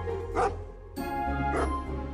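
Dogs on a farm at night give two loud, close barks about a second apart, each a full, resonant bow-wow.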